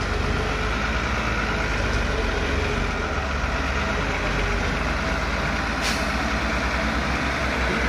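A Hino 260 truck engine runs steadily at close range, a dense continuous rumble with no break or clear change across the whole stretch.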